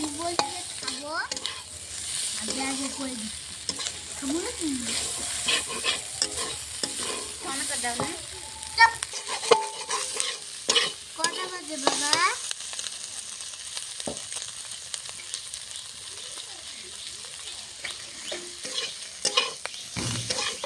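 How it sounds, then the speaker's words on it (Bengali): Fish-oil chachchori with spring onions fries in a pan with a soft crackle and repeated stirring scrapes, while quiet voices come and go during the first half. "মাছের তেলের চচ্চড়ি পেঁয়াজ কলি দিয়ে করলে পেঁয়াজ কলিটা পুরো পুরো করতে হয়, হালকা ভালো হয়। আর কিছুক্ষণ ভেজে নেব।"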